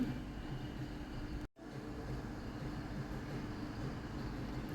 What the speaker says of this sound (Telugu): ఒక ట్రైన్ రీచ్ అయింది ప్లాట్ఫామ్ మీదకి